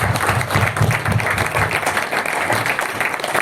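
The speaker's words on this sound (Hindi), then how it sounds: "तो इनके लिए जोरदार तालियां होनी चाहिए" A gathering's audience claps loudly and steadily for the couples in attendance, a dense continuous patter of many hands with little else over it.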